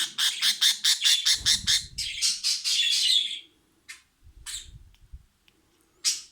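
A budgerigar chick being hand-fed squawks in a rapid, harsh series of close, loud chirps, then pauses, followed by a few scattered squawks and soft shuffling handling noises.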